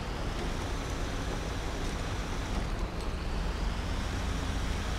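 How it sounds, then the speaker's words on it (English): Kenworth truck in GTA 5 hauling two Ford F550s on a highway, a low steady engine rumble with broadband road noise, continuous and moderately distant, no talk. "this Kenworth is working hard today. Hauling two F550s"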